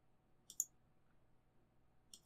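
Two sharp mouse clicks on a computer, one shortly after the start and another near the end, separated by near silence while a Windows security settings dialog is operated.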